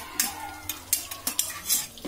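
Prawns coated in masala are stir-fried in a pan for a prawn thokku, with quick successive spatula scrapes and clanks over a close, steady sizzle.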